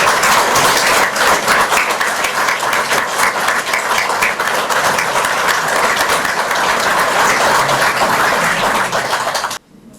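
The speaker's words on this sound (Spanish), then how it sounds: "Un aplauso para él." Sustained audience applause in a theatre during a book talk, a dense, loud wash of many hands clapping steadily for nearly ten seconds before cutting off abruptly.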